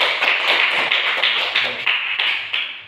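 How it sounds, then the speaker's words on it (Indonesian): A group claps hands together in a classroom lesson, a brisk, loud, fairly even patter of rapid claps lasting a few seconds with no voices over it. "Kita berikan tepuk tangan untuk kita semua."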